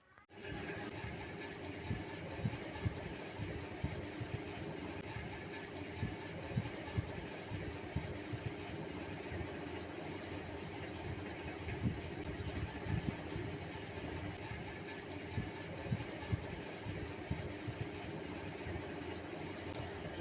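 A sewing machine stitching a pleat into pajamas, a steady low mechanical hum with a rapid fine rattle of needle strokes running continuously for the whole stretch.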